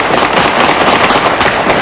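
Dense, loud, continuous crackle of gunfire from vigilantes guarding Al-Kark Hospital in Iraq, shooting at passing vehicles laden with looted goods, a rapid unbroken rattle with no pauses.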